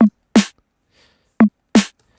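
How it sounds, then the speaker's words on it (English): Synthesized snare drum built in Phase Plant, four short punchy hits alternating between a tighter body tone and a brighter noisy crack, looping with brief silences between, loud and dry with no voices. "this is kind of the main body of the snare"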